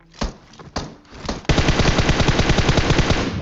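Gunfire in the mobile battle royale game PUBG Mobile, with a couple of isolated shots followed by a loud, rapid sustained burst of automatic fire, close and dominant.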